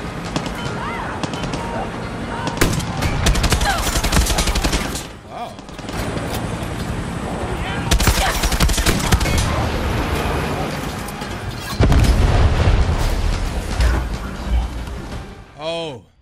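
Air support gunfire and explosions in Far Cry 6 keep up a loud, dense barrage of rapid shots and booming blasts, with brief lulls before the firing surges again.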